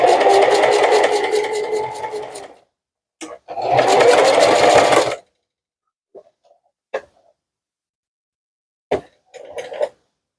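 A sewing machine stitches a fabric bowl cover in two sustained whirring runs with a brief burst between, followed by quiet gaps and a few short clicks and taps.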